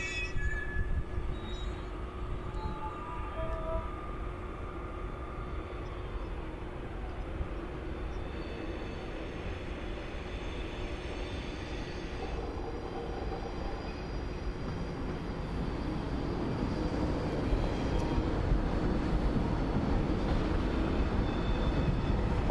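TGV high-speed train running on a new electrified line, a continuous broadband rumble and rush that grows gradually louder over the final seconds, with no talking.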